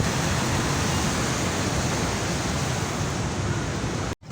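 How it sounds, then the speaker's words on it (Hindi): A river in flood at Tosa Sharif rushes forcefully in a steady, loud, close roar of churning water that holds without pause, then cuts off abruptly near the end. "इधर देखें पानी जो है इतने ज़ोर और शोर से आ रहा है।"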